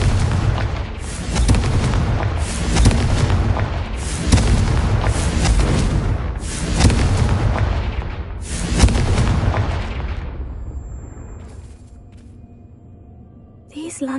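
A fiery blasting spell from the Hogwarts Legacy game sets off a rapid series of loud, booming explosions. Three or four heavy bursts roll into one another before a long rumbling decay fades into quiet.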